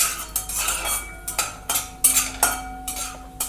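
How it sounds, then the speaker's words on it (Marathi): Peanuts roast in oil in a pan as a spoon stirs them, making a run of close, sharp clinks and scraping rattles at an uneven pace, with no voices. "शेंगदाणे तेलात खरपूस असे मी भाजून घेते।"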